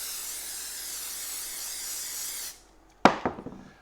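Glue activator sprayed onto a wooden cake stand base made from a Kentucky bourbon barrel stave, a steady close hiss lasting about two and a half seconds, then a brief pause and a short knock of handling.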